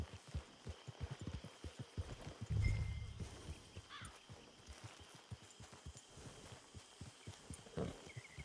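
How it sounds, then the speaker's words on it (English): Horse hooves clip-clop at a steady trotting rhythm in the open-world Western game Red Dead Redemption 2 Online, close and clear, with a brief louder swell and faint ambient sounds and no talking. "Get your horse."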